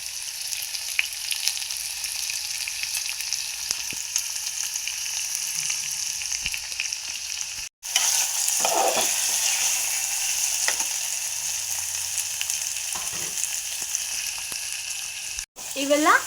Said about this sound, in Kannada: ಇವೆಲ್ಲ ಎಣ್ಣೆಗೆ ಒಂದೆರಡು ನಿಮಿಷ ಫ್ರೈ ಆದ ನಂತರ